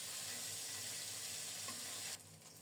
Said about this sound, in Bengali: এদিকে মাছগুলো 1 পিঠ লাল লাল করে ভাজা হয়ে গেছে।